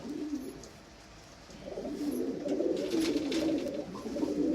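Jarnail Kanewale blue pigeons coo in a low, continuous murmur that swells steadily louder, several birds overlapping close by with no talk.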